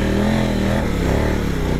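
A KOVE 800 Adventure motorcycle engine pulls uphill in third gear, loud and close, with a steady labouring drone that shifts pitch slightly partway through.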